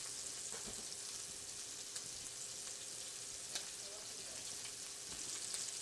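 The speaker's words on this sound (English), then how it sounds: "It takes about 2 minutes per side of shrimp to get a nice sear on that." Shrimp and tofu sear in a hot pan with a steady, faint hiss of sizzling oil and occasional small pops throughout.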